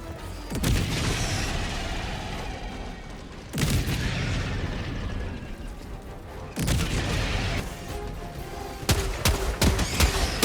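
Orbital strike explosions and gunfire in the Helldivers 2 video game, with three loud booming blasts about three seconds apart over continuous dense firing, then rapid sharp shots near the end.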